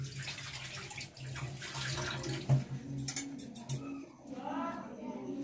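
Jujube berries are swished and rinsed by hand in a bowl of water, giving soft sloshing and splashing with occasional clinks, close and fairly quiet, while someone talks over it.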